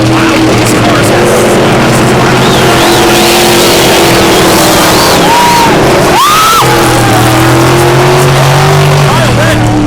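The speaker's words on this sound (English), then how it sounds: "I kind of forgot how loud these cars are." Loud V8 race cars roar around a racing track, engines screaming close by with pitch sweeps as cars pass, a commentator talking over the din.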